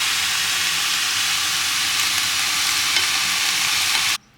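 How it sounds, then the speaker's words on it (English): Diced kangaroo meat fries in a pan inside a van in winter, a loud, steady, close sizzle that runs without a break and then cuts off abruptly. "I bought this diced kangaroo. Gonna fry that up"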